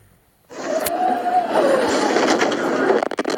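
A tram on route 61 in a Roblox game rumbles as it starts moving and rolls steadily onward, with a faint rising whine above the low rattle, close and continuous.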